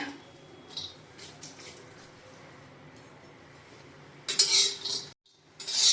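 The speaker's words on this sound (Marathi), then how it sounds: "तवा आपला आता गरम झालेला आहे त्याच्यामध्ये आपण आता खोबरं भाजून घेऊया" Grated coconut roasts on a hot tava while a metal spoon scrapes and stirs it, giving soft intermittent clinks and scrapes that grow louder and sharper toward the end, with a brief gap just before the final stirring.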